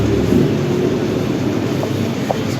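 A tram rolls along its track with a steady low rumble and rattle, loud and close throughout.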